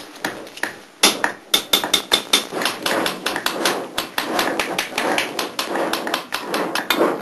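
A goldsmith beats melted gold into traditional shapes such as earrings with a hammer, giving a steady run of close, sharp metallic taps, dense and rhythmic, after a brief opening burst and pause.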